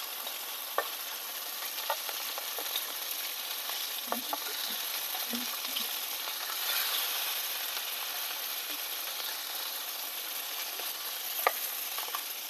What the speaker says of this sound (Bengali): এবার দিয়ে দেবো আদা, হলুদ গুঁড়ো, জিরার গুঁড়ো আর লবণ